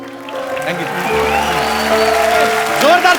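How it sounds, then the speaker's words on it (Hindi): Studio audience applause on The Kapil Sharma Show, a steady wash of clapping running under music and a speaking voice throughout. "जोरदार तालियां हो जाएं।"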